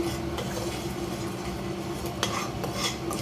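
Ghee stirred steadily in a pan for gourmet popcorn, a continuous close scraping and swishing of a utensil against metal with a faint sizzle and occasional clinks, no talking.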